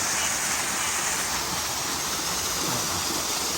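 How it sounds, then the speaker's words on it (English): A 33-foot waterfall pours into a restaurant grotto at night, a steady, close, broadband roar of falling water that holds level throughout with no break. "our major attraction, I guess, would be our 33-foot waterfall, as you can see up here"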